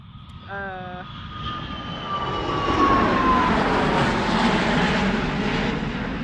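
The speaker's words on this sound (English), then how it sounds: "That's a plane." An airplane passes overhead as a broad, rising roar that builds and sustains near the end. A brief tonal chirp sounds at the start beneath it.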